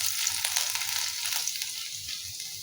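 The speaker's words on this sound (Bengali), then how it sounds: "রসুনটাকেও ভালো করে ভেজে নিচ্ছি।" Five or six cut garlic cloves frying in hot oil for a Bengali pumpkin bhorta, a continuous crackling sizzle with occasional stirring, close and steady.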